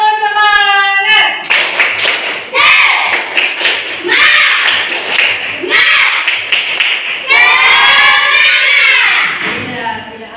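A classroom group performs a rhythmic spirit clap, loud patterned bursts of hand claps and thumps alternating with children chanting and shouting along, all close and energetic.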